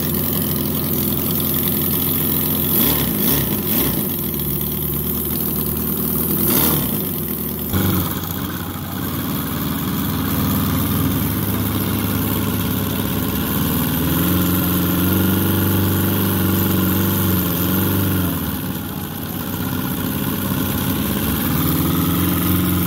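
A model Corliss steam engine runs at a show of model engines, giving a steady, even mechanical drone with a low rhythmic chug. It is close and continuous, with faint crowd background and brief clanks.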